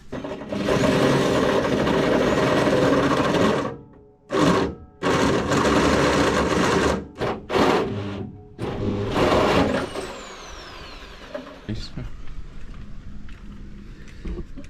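Power drill boring a steering column hole through the metal engine bay of a Mk2 Escort being converted from left- to right-hand drive, loud whining bursts with short pauses, then a quieter tail.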